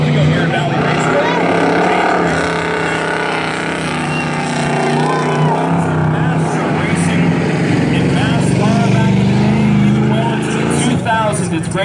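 Eight-cylinder class race cars in a heat race at Valley Raceway, their engines a steady, loud, continuous roar under constant commentary from a talking voice.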